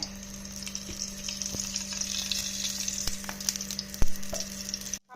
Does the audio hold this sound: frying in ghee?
yes